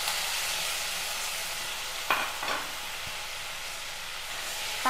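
Chopped tomatoes and curry leaves sauté in a pan with a continuous sizzling hiss. A couple of quick stirring scrapes stand out midway, and no one speaks.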